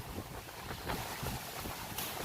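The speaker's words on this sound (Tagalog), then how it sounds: "malakas po yung hangin ngayon." Gusty wind buffets the microphone in heavy rumbling blasts beneath a bridge over the Pasig River, a constant roar with brief louder surges.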